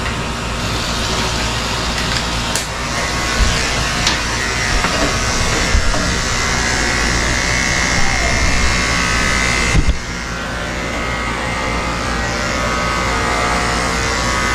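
Electric pet clipper shaving down a Cocker Spaniel's coat, a steady close buzzing drone running the whole time with a brief dip and change near the end, no talking.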